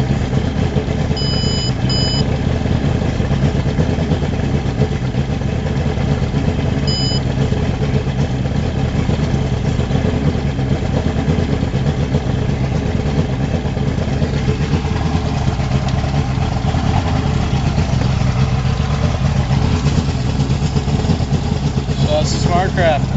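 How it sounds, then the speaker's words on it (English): A Mercury 225 outboard motor on a Boston Whaler Outrage runs at a steady idle, a continuous low engine drone throughout with a couple of brief high electronic beeps early on. "Looks like this motor runs pretty good."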